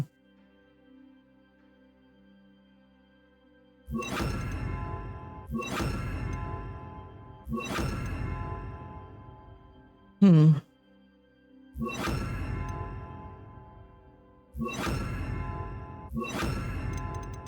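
Repeated Bombarda spell blasts in Hogwarts Legacy, about six sharp explosive bursts with ringing decays, spaced a second or two apart, plus one short higher crack between them.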